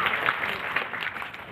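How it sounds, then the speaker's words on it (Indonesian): An auditorium audience at a talk show seminar applauding for a speaker, a brief continuous burst of many hands clapping at moderate loudness. "Kasih tepuk tangan untuk Ari."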